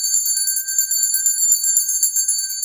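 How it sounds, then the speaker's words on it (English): A small bell rung steadily in rapid repeated strikes, bright and ringing with a sustained shimmer, close and loud with nothing else heard. "So we got to do the bell."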